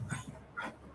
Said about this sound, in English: The dogs are chasing each other again.